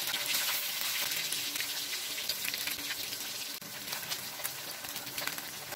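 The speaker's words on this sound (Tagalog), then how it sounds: "At ayan, iprito na natin yung ating cream dory." Cornstarch-coated cream dory fillets frying in hot oil give off a steady, dense sizzle with crackling pops, close and continuous with no talking.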